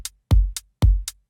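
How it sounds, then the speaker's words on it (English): An organic house hi-hat sample ticks on every eighth note, short crisp bright taps falling between and alongside soft deep kick drum thumps in a steady loop, with no voices. "I then added a hi-hat from the pack as well,"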